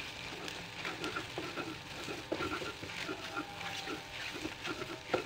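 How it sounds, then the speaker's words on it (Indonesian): Scrambled eggs stirred in a frying pan, a steady faint sizzle with repeated soft scraping strokes of the utensil throughout, close but quiet. "Nah, ini diaduk-aduk, diorak-arik telurnya"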